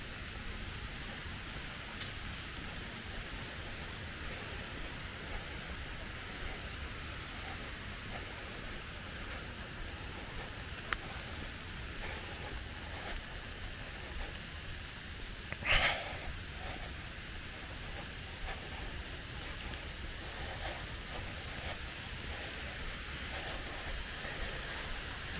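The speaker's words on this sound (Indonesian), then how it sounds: "Hujannya lumayan, lumayan gede." Steady rain hisses continuously outdoors at Sibolangit, Indonesia, with one brief sharp noise partway through.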